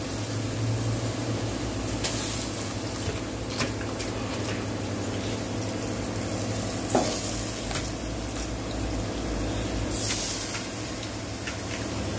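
Cabbage goes into a hot pan for cabbage kootu along with tomatoes and chana dal, frying with a steady close sizzle and hiss that is broken by occasional scrapes and stirring clatters, with no talking.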